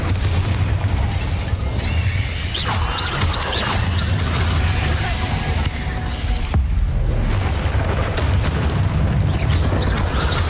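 Bombarda blasting spells explode repeatedly in the Hogwarts Legacy video game, dense booming crashes over a thick, continuous rumble of game effects and music, loud and busy throughout.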